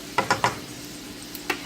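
Chicken pieces cooking in a pan on an electric stove, giving a faint soft sizzle with a few brief stirring scrapes and clicks near the start and end.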